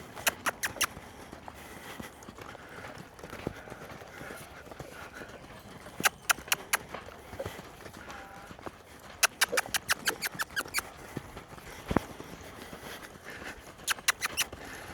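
A horse lopes on soft ground, its hoofbeats coming in quick rhythmic clusters of soft thuds, fairly faint and spaced by quieter stretches, with a little background noise.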